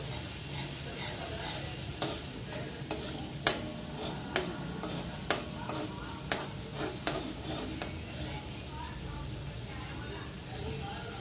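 Garlic cloves, about fifteen of them, sizzle steadily in a hot pan while a spoon stirs them with a series of sharp scraping clinks, close and moderately loud, with faint background noise throughout.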